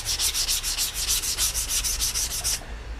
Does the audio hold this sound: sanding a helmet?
yes